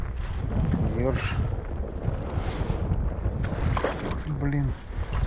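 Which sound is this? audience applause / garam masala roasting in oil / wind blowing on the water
wind blowing on the water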